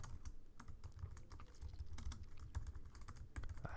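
Rapid, uneven clicking of keys on a computer keyboard, quiet and close, continuing for several seconds with no voices.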